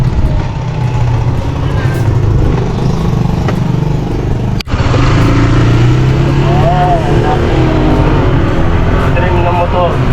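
An ATV engine runs continuously and loudly at close range, its rough, steady drone filling the whole stretch with only a brief dip midway.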